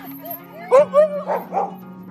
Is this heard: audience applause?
no